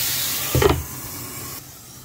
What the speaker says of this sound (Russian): Вот так она сейчас будет жариться.